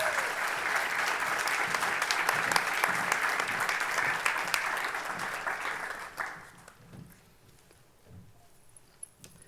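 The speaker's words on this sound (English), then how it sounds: "let's have a round of applause for all our new inductees this evening." An audience at a 2019 National Honor Society ceremony at Sterling High applauds new inductees, with loud, sustained clapping that fades away after about six seconds and leaves a quiet room with a few scattered sounds.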